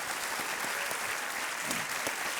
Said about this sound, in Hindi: बहुत बहुत बधाई आपको एक बार फिर अनमंगल जी। तालियों के साथ इनका अभिनंदन।